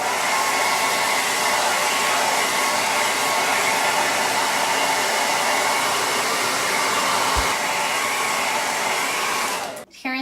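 A hair dryer blows steadily and loudly while drying paint on a chalkboard bee sign, a continuous close whoosh that cuts off abruptly near the end.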